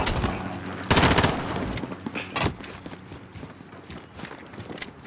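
Rapid automatic gunfire from a sentry gun in the Call of Duty video game, dense crackling bursts loudest near the start and fading into scattered shots amid busy battle noise.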